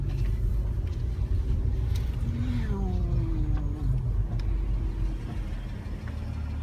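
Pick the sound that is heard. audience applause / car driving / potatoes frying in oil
car driving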